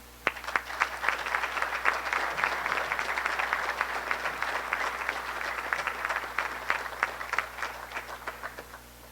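An audience at a Salvation Army Christmas charity breakfast breaks into sustained applause, many hands clapping densely at a steady loudness for several seconds before it begins to thin toward the end.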